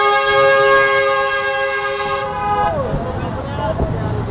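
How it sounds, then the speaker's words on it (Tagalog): A loud, sustained vehicle horn blares steadily for a couple of seconds in heavy traffic, then cuts off, leaving rumbling traffic noise behind. "Grabe naman yun, lakas ng busina."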